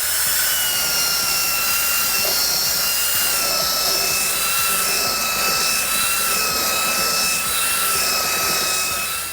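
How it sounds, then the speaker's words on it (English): A belt sander runs continuously with a steady high whine and grinding rumble as it smooths pallet wood for a coffee table top in a workshop. "I'm going to give it a good sand up using a belt sander"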